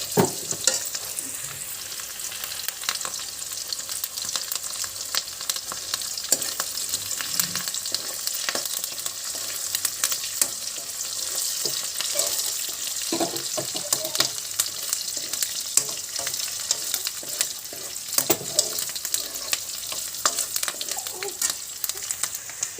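Fenugreek seeds, mustard seeds and curry leaves fry in oil in a pan for a fish curry, a steady crackling sizzle with occasional stirring scrapes, close and continuous with no talk.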